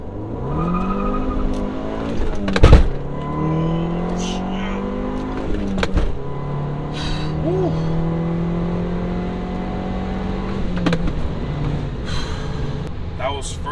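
Car fitted with a Clutch Masters FX250 clutch pulling hard through first to third gear, engine rising in pitch with each gear and brief shift breaks, loud and close with a voice talking over it.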